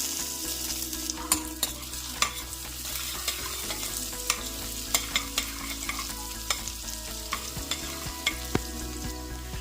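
Cumin, dried red chili, ginger and green chili fry in a hot pan, crackling and sizzling steadily, with a spoon repeatedly clinking and scraping against the pan in an irregular rhythm.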